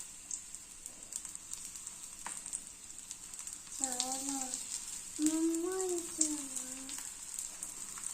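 Colocasia-leaf alu vadi slices fry in oil on a hot griddle with a soft, steady sizzle, while a voice talks faintly over it.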